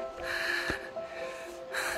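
A hiker breathes heavily after climbing uphill on the trail to Buscalan, Kalinga: loud, close gasping inhales and exhales in a steady rhythm, with no words.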